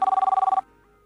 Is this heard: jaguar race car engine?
no